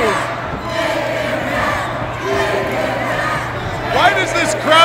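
Wrestling crowd at a PPW PowerSlamTV event roars and cheers steadily, a dense wall of voices with a low constant hum beneath and a louder swell near the end.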